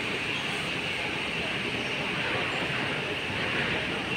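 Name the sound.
Kuala Lumpur LRT train arriving at KL Sentral station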